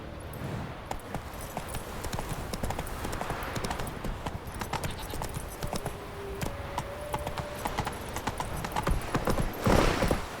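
Roach, Geralt's horse in The Witcher 3, runs with steady, close clip-clop hoofbeats throughout, with jangling tack and a brief whinny-like tone near the end, loud and continuous.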